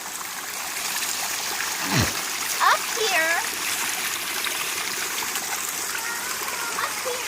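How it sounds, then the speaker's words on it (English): Creek water flowing and splashing steadily nearby, with a brief splash and a man's short remark over the continuous rushing. "as we come up the creek, the water is flowing down"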